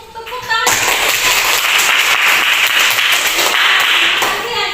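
Students clapping in an Indonesian classroom, a loud burst of applause starting sharply after a brief spoken moment and continuing steadily to the end, with children's voices mixed in.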